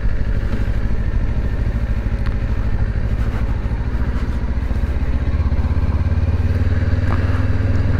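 A 2024 Kawasaki Ninja 500 KRS SE ABS motorcycle ridden in the evening, its engine droning steadily and loudly up close, with a gear change and a shift in pitch toward the end.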